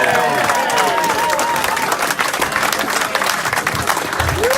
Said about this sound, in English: Big round of applause for the players